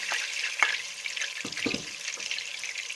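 Continuous crackling sizzle of chopped chicken and onions frying in hot fat, with a few clanks and stirring scrapes from a pan.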